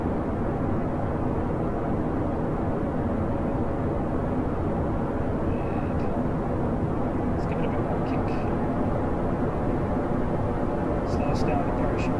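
Heavy ascent rocket thrusters fire in the Kerbal Space Program game as a steady, unbroken broadband roar, with a few faint clicks near the end.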